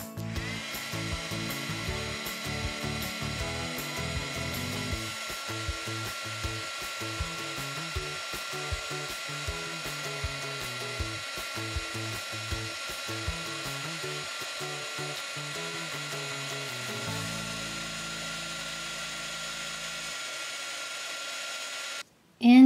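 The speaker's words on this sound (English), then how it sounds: "I'm actually going to shrink them with a heat gun." A heat gun blows steadily while shrinking small plastic ring pieces held with tweezers: a continuous whirring, whining hum with rhythmic low pulses that cuts off abruptly near the end.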